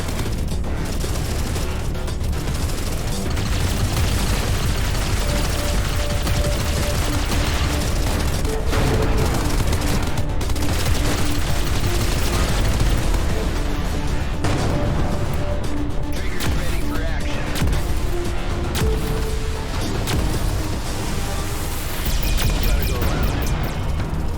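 Continuous weapon fire and booming blasts from a space combat battle in the video game Everspace 2, with incoming torpedoes, dense and loud throughout with layered explosions over a low rumble.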